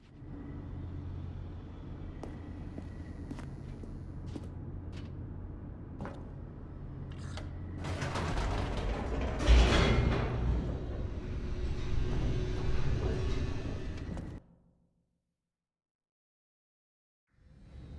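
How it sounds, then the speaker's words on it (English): Elevator descending in the video game The Stanley Parable: a steady low mechanical rumble that swells into a louder rushing, rattling roar for several seconds, then cuts off abruptly into near silence before a faint return at the end. "The elevator raced downward"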